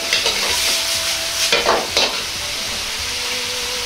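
Minced meat with leek is stir-fried after a potato starch slurry goes in, a close, steady sizzle with bursts of scraping and stirring, louder in the first half and then settling.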